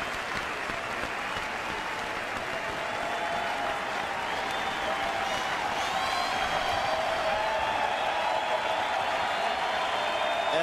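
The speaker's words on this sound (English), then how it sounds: "a standing ovation for Miguel Cabrera and his teammates are there to greet him" Crowd at a Detroit Tigers baseball game giving Miguel Cabrera a standing ovation, sustained broad applause and cheering from a large stadium crowd that swells slightly and carries on steadily throughout.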